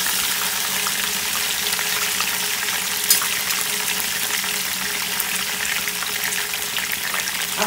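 Washed rice is lightly sautéed in a pan for Punjabi gur rice, giving a steady, close hiss of frying that runs evenly throughout with a brief clink near the middle.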